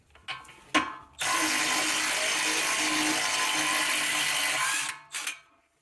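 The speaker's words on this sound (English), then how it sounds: "impact wrench works well to get that off and separated from there" An impact wrench frees a tie rod end on an Audi Q7, loud and close: a couple of short ratcheting bursts followed by a sustained rattling whir of nearly four seconds, then brief clicks.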